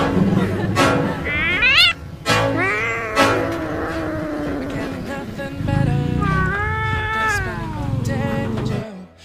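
A stressed cat meows and caterwauls repeatedly, long wavering drawn-out cries that are loud and close, mixed with a person talking in the background.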